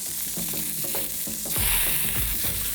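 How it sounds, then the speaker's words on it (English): Pork sears in a little oil in an extremely hot pan, a close crackling sizzle with a few clattering knocks and a louder burst of spitting midway, no voices. "So a little bit of oil in an extremely hot pan."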